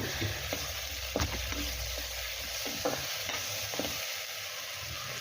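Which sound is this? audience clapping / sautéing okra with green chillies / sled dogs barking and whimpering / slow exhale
sautéing okra with green chillies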